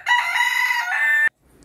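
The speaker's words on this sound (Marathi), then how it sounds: "गावची सकाळ ही अशी होते कोंबड्याच्या आरवण्याने" A rooster crows once, loud and close, on a village morning in rural Konkan, the call holding steady for over a second before cutting off abruptly into near silence.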